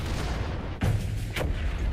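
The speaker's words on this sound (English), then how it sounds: "What is that booming sound?" A deep boom sounds from the Gears of War video game, one heavy low thud followed by a lighter distant impact over a steady rumbling background.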